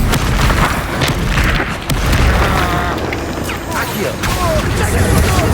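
Bombarda and Confringo spells go off in a Hogwarts Legacy duel as loud, dense booming blasts and crackling bursts that run almost without a break, over a sweeping whoosh of spell effects.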